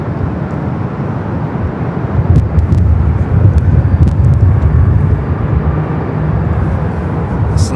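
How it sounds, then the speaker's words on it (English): An Air China Boeing 777-300ER takes off at Los Angeles International Airport, giving a loud, continuous, deep roar that swells slightly midway, with wind buffeting and faint background clicks. "Air China 777 at 300 ER heading up for north side at takeoff."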